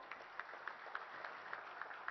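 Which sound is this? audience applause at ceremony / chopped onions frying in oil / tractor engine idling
audience applause at ceremony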